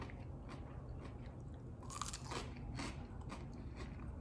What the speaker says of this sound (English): Cucumber is crunchy.